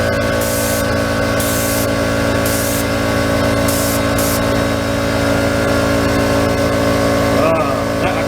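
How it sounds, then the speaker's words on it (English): Primer sprayed from an aerosol can onto a rusty old Chevy electrical switch, several short hissing bursts over a steady loud mechanical hum in the background. "I'm going to protect the whole switch by shooting it with primer."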